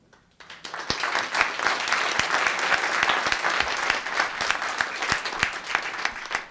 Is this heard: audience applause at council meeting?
yes